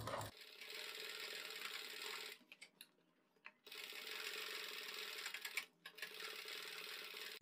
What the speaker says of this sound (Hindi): हम यहाँ पर अपनी बीच सेंटर में सिलाई चलाएंगे